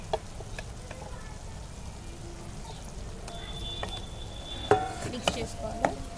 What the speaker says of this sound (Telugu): ఇక్కడ మన ప్రాన్స్ ఫ్రై అయిపోతున్నాయి